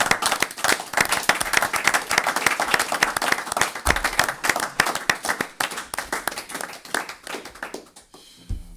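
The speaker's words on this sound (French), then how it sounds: "Voilà, et on acclame mes amis." An audience claps steadily after a prayer at a French-language Christian broadcast. The dense, sustained applause rolls on for several seconds, then thins and fades near the end.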